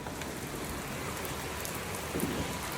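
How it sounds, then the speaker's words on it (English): Light rain falls steadily beside a natural creek, an even, close hiss of drops with no voices. "A little rain,"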